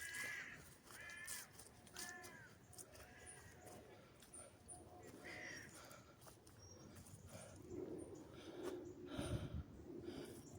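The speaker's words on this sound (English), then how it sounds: "Crow." A crow caws repeatedly in short rasping calls at moderate distance, heard outdoors near an old oak tree among bramble bushes, with faint ambient background.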